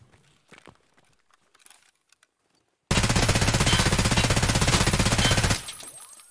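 Rapid automatic gunfire from a weapon in a first-person shooter game, a dense, loud sustained burst of about two and a half seconds after quiet footsteps and rustling, then cutting off into a fading tail.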